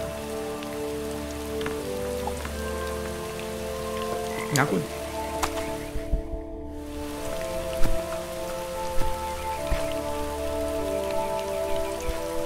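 Rain falls steadily in the video game Starbound, heard alongside croaking frogs and scattered sharp effects, while someone briefly speaks German.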